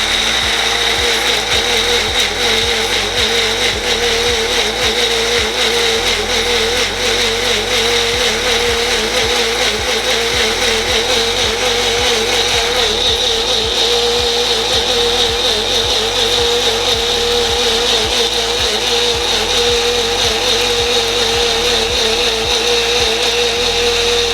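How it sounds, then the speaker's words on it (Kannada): Kitchen mixer grinder whirring continuously while grinding ingredients into a chutney paste, a loud, steady motor drone with a rhythmic churning pulse throughout. "ಇದನ್ನು ಚೆನ್ನಾಗಿ ಗ್ರೈಂಡ್ ಮಾಡ್ಕೊಬೇಕು ಒಂದು ಟೇಸ್ಟಿನ ರೀತಿಯಲ್ಲಿ"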